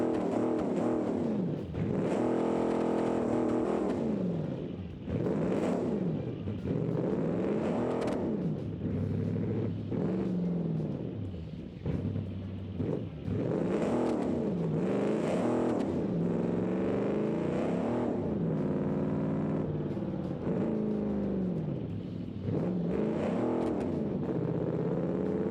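A Ford car engine in the BeamNG Drive driving game revs and pulls through long gears, rising and falling in repeated sweeps with a slight hesitation, loud and steady with no talking over it.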